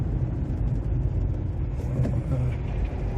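A truck struggles to drive out of deep snow after a big February snowstorm on PEI, its engine rumbling low and steady close by, with faint background noise.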